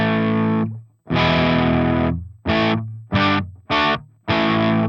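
Electric guitar through the Moon amp model on a Line 6 POD Go with every control set flat, giving loud distorted chords: two long ringing strums followed by several short choppy hits.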